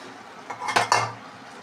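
A metal ladle scrapes and knocks twice against a pot of pumpkin rasavangi with tamarind water and boiled chickpeas, close and clear, over a faint low background hum.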